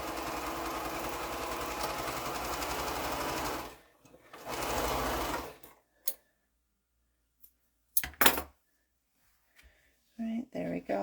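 A sewing machine stitches quilt border pieces with a steady close whir that stops, then a second short burst, followed by scattered clicks and handling noises as a person begins talking.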